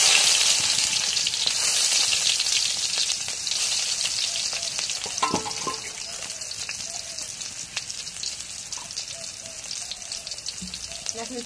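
Pieces sizzle and crackle steadily in hot oil in a wok, a dense close frying hiss running throughout with a few soft clinks and faint background sounds.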